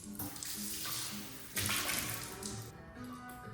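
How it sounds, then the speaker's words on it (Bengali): Water runs steadily from a sensor-activated tap into a sink, a continuous hissing splash that swells louder partway through, close and alone. "যখন আমি সেকেন্ডবার ট্রাই করলাম তখন বুঝতে পেরেছি আসলে সেন্সারটা কোথায়। তা তখন কিন্তু জল আসছে"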